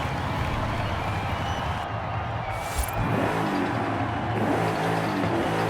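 Muscle car engine in Forza Horizon 5 heard from the cockpit, a steady loud drone with a brief gear shift dip before revving back up, continuous throughout.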